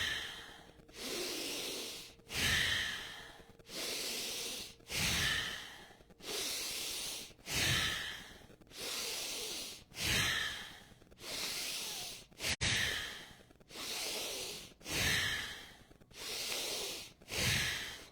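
Slow, deep, regular breaths in a yoga class, about a dozen long airy inhale and exhale cycles close to the microphone, each steady and even, with no talking over them.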